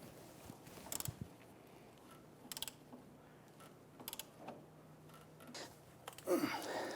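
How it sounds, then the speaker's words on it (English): A ball joint press tool forcing an upper ball joint into the axle of a 1999-2004 Jeep Grand Cherokee, heard as faint ratcheting clicks in short bursts with creaks, growing into a louder grinding squeak at the end. "I'm going to go ahead and press this ball joint into the axle tube."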